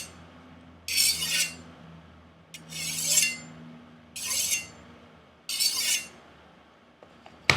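Chef knife being free-hand sharpened on a portable whetstone: four separate bright scraping strokes, each about half a second, spaced roughly a second apart, fairly close over a low steady background hum.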